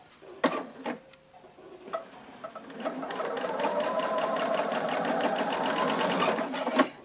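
A sewing machine stitches pieces of a log cabin quilt block, starting with a few short bursts and handwheel clicks, then running in a fast, even mechanical rhythm close by, with no talking.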